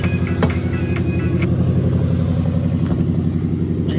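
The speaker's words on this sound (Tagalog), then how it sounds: "at sakay na tayo sa kotse" Riding inside a Lexus LS 400 sedan, a steady low engine hum and road rumble with a few faint clicks early on and no talking.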